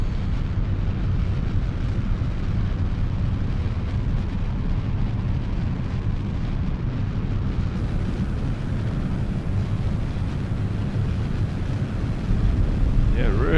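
A rocket engine at full throttle in Kerbal Space Program roars as a loud, steady, broadband rumble, unbroken for the whole stretch, close and alone.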